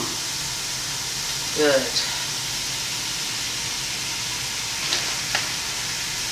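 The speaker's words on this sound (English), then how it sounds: "I'm going to stir that around because I want everything to take part in that." Sausage gravy darkened with browning sauce sizzles in a pan while being stirred, giving a steady soft hiss with faint scraping, and a voice briefly speaks.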